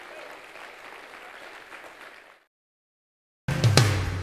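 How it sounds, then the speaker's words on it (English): A congregation in a church gives a round of hand clapping in praise, fairly loud at first and then fading into a brief silence, followed by a sudden burst of music or singing. "Give Jesus a hand clap of praise in the house of God today"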